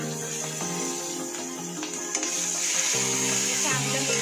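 Asafoetida and turmeric leaves dropped into hot oil for a Malvani-style fish curry give a steady, bright sizzling hiss that runs throughout, with background music playing over it.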